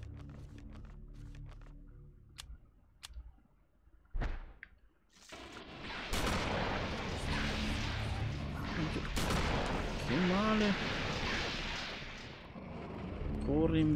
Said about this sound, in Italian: Quindi io magari gli sparo.